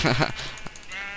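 A Minecraft sheep bleats clearly in a short burst up close in a jungle, followed by quieter ambient game sounds.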